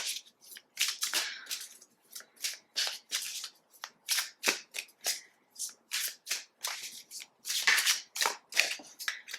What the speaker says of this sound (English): so now I do want to pull a few of the oracle cards